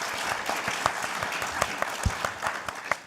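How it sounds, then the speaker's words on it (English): An audience at an evening hustings on rewilding gives its panel members a round of applause, with dense, continuous clapping and some louder individual claps close by. "one final round of applause, please, for our panel members here this evening"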